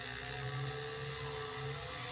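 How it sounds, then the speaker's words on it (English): A rotary drill whines at a steady high pitch, continuous and close, with a slight wavering hum as it polishes a wire weave pendant after a patina. "move the drill with this one."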